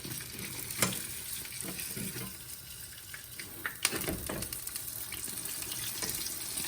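Bread frying in a pan with two types of cheese, a steady loud sizzle running throughout, broken by a couple of sharp clatters as the slice is flipped over.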